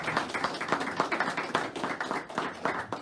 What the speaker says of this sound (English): Let's give a round of applause to our entrepreneurs.